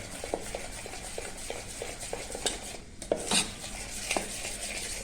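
Dhokla batter with soda added is stirred in a bowl, giving repeated rhythmic scraping and clinking strokes of a utensil against the vessel, close and fairly quiet, with a brief louder clatter near the end.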